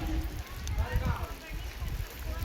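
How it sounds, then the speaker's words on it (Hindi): Hailstones falling on a hill village during a storm, heavy and close, with dense rattling and pattering and low drumming thuds on surfaces. Someone talks over it. "ऊपर देखो काफ़ी खतरनाक ओले बढ़ रहे हैं।"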